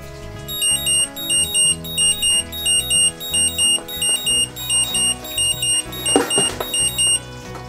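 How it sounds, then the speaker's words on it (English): Repeated electronic beeping alarm from an 18650 lithium-ion battery discharge capacity tester, a steady train of short high-pitched bursts over a background hum, with a brief clatter near the end. "So, ito nag-alarm na."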